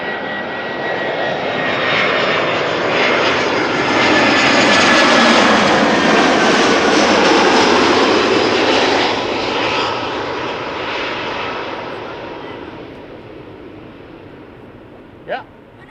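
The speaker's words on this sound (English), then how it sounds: "This is Aer Lingus Flight 604 arriving from Dublin" An Aer Lingus Airbus A320 arriving from Dublin lands at Schiphol Airport, its jet engines swelling into a loud, sustained roar that peaks mid-pass and then slowly fades, with a brief sharp knock near the end.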